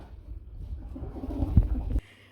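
Pigeons, racing birds kept on a breeding farm, give a low, throaty coo that swells to a louder burst near the end before cutting off, heard close with faint background noise.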